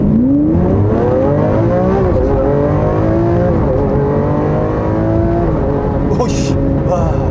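A Lamborghini Aventador S launches hard, its engine note climbing loudly through several sharp, abrupt gear shifts, heard up close from inside, with a couple of brief cracks near the end.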